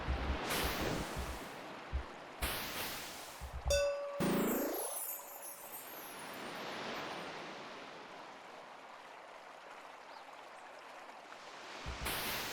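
A chiming bell rings out in the Isles of Sea and Sky puzzle video game, its bright tone ringing and decaying over splashy water-like ambience, with short dings and clinks near the start.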